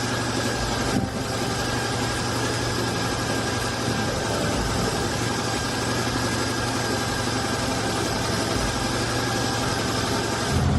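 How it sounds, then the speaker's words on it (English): A car engine idles steadily right after a new knock sensor is fitted, a constant low hum with mild vibration running evenly and close throughout, with no voices. "Let's start the engine and check how it works."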